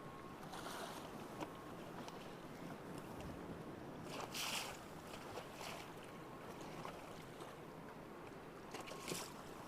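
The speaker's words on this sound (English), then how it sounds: "I don't know if you can hear that wind through my mic" Wind blows across Lake Erie around a fishing boat on open water, a steady rushing roar with brief stronger gusts, fairly faint and with no voices.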